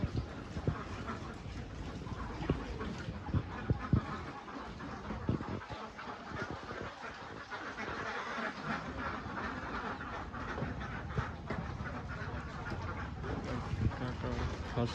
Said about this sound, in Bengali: কাকা হাঁসকে খাবার দিতেছে, হাঁসগুলো অনেক সুন্দর দেখতে পাচ্ছেন।